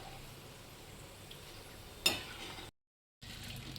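Peanuts frying in oil for chivda (puffed-rice snack) over low to medium heat, a faint steady sizzle with one sharp utensil clink before a brief cut to silence, then more sizzling.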